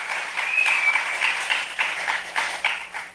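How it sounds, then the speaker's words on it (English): An evening public political meeting crowd in Sangre Grande gives a sustained round of applause, with steady, fairly even clapping throughout and no clear talking over it. "Give yourselves a round of applause."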